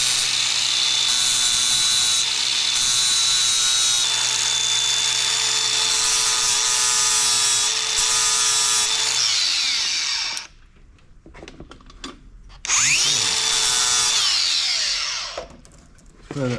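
A loud power tool whines continuously while cleaning up the flats on a crank jack being converted to an impact jack, cutting out briefly near the end before starting again.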